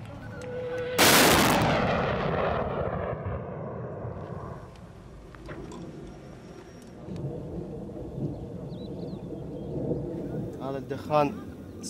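A single loud, deep boom of distant heavy artillery fire in a war against ISIS rolls out and decays slowly, followed by faint rumbling and background voices.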